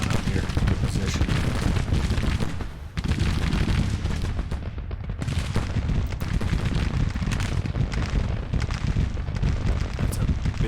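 Artillery battery firing in Grand Tactician: The Civil War, a steady, dense roll of booming cannon and gunfire that carries on without a break, loud throughout, with a brief dip partway.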